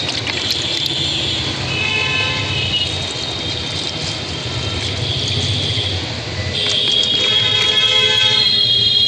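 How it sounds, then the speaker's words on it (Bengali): Water poured from a vessel onto garden plants, a steady, fairly close trickle and splash running throughout, with faint high tones in the background. "গাছেদের এবার আমি একটু একটু করে জল দিয়ে দিই"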